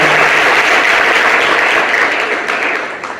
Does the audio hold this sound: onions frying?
no